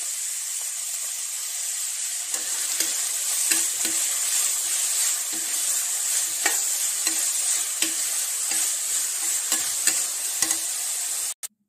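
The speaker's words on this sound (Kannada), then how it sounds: "ಪತ್ತು ನಿಮಿಷ ಲಾಯ್ಕ್ ಮಲ್ತಿದ್ದು ಫ್ರೈ ಮಲ್ಪುಲೆ" Radish greens fry in oil in a pan with a steady, bright sizzle, and stirring clicks and scrapes sound throughout before the noise cuts off abruptly at the end.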